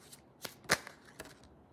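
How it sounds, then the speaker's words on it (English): Tarot cards being shuffled by hand, a few soft papery riffles and flicks in quick succession, close and fairly quiet with no talking. "I was just shuffling this card"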